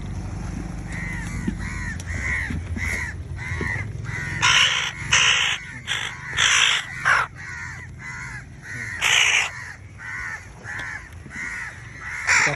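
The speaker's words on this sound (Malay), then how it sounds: "Nah ini dia anak burung gagak." Crows caw repeatedly in the open, loud harsh calls in irregular bursts near a fledgling that has fallen from its nest, with steady outdoor background noise and no talking.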